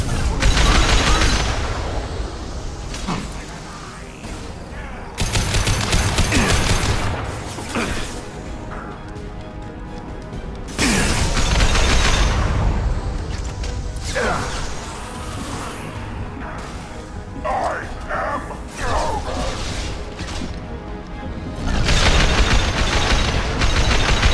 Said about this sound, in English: Stop firing at me!